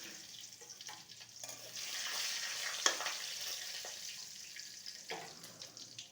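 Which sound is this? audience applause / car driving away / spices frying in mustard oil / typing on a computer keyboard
spices frying in mustard oil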